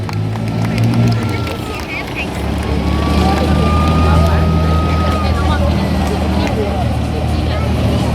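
Army armoured engineer vehicle driving past at a Singapore Army open house, a loud steady engine rumble with track noise, while an announcer talks over a crowd.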